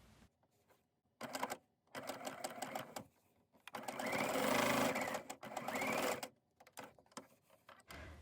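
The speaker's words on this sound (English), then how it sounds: "now we will stitch the back to the front" A sewing machine stitches fabric squares together with right sides facing at a quarter-inch seam, running in short and longer whirring bursts separated by brief pauses.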